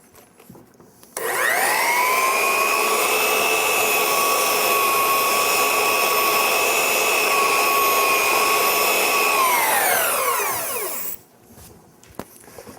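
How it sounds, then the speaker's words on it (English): A steady, loud belt sander whine with a bright sanding rasp runs for about ten seconds as an abrasive cleaning stick is pressed to the belt, then spins down and stops. "with just a kiss or two on top of that stick, I can very easily clean the belt"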